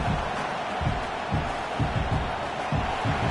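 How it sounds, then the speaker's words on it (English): A large stadium crowd in the video game NCAA 26 roars steadily in the distance, with rhythmic pulses of chanting or stomping rising through the noise. "It's early, but this crowd is fired up. Listen to this noise here."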